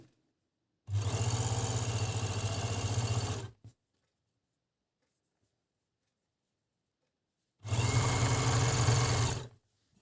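An Agat DonLock 54D-6 overlock sewing machine stitches a seam in two loud, steady humming runs of about three and two seconds, separated by a long silent pause, close up with no talk.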